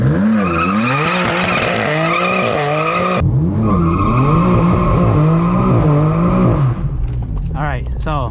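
A BMW M4 launching under launch control, the engine revving hard and climbing through gears while the tires squeal and skid loudly, close and intense throughout.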